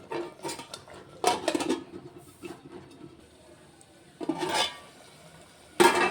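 A metal ladle stirs wet tomato chutney in a metal pot, making three separate bursts of clanking and scraping against the pot's sides, close and fairly quiet, with soft gaps between them.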